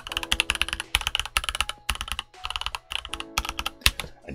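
Stock Skyloong GK61 Pro QMK/VIA edition, a prebuilt 60% mechanical keyboard, typed on loud and close in steady runs of crisp keystrokes separated by brief pauses, with no voices.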